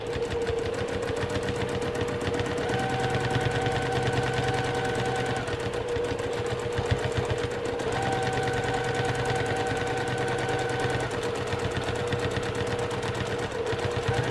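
A sewing machine doing free-motion quilting on a flying-geese quilt, a rapid, steady needle chatter that keeps running without voices.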